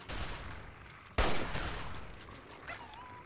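Gunfire in the video game Fallout 3 sounds as a burst of shots, one loud crack standing out above a rattling fusillade that fades into a faint ringing tail, with no talk over it.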